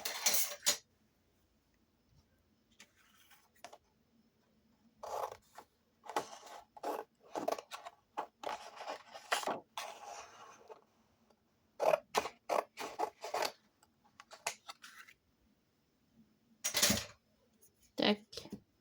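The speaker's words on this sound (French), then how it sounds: "on va couper le surplus" Scissors trim excess paper from a handmade autumn scrapbook album, producing a scattered series of short, quiet, close snips and rustles with pauses between them.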